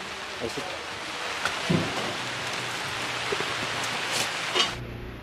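Steady rain falls in a rural village barangay in Pangasinan, a soft continuous hiss of drops on surfaces with a few scattered louder taps, heard close and fairly quiet throughout.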